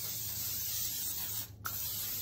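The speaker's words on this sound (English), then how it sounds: "I'm gonna spray a little bit of this coconut oil spray here." Coconut oil cooking spray hisses in a steady, close burst over cauliflower in a pan, cutting off briefly near the end before a final short puff.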